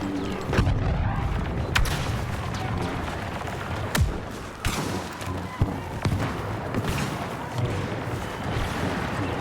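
A grenade goes off during a Star Wars Battlefront II battle on Yavin 4, its booms set within nonstop dense gunfire, blaster shots and explosions that fill the whole clip loudly.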